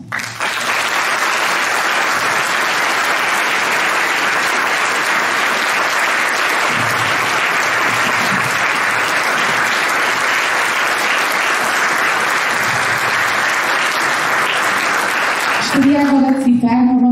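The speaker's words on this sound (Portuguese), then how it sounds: "eu volto a pedir-vos um caloroso aplauso." Warm, sustained applause from the audience at a Portuguese folk culture show, loud and steady for about sixteen seconds before fading as a voice starts speaking.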